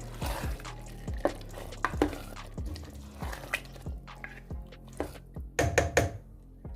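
Garam masala being stirred into a thick daal gosht curry, with repeated wet, squishy thuds and scrapes of a spoon in an uneven rhythm, close and moderately soft.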